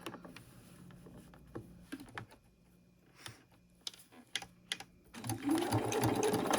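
A sewing machine stitches a backpack seam, starting with a few short, sharp bursts of needle clatter separated by quiet gaps, then running into a louder continuous stretch of rapid mechanical stitching at close range.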